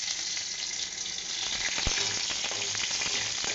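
Garlic, dry red chili and nigella seeds fry in hot oil with a steady, close crackling sizzle and scattered sharp pops, and no one speaks.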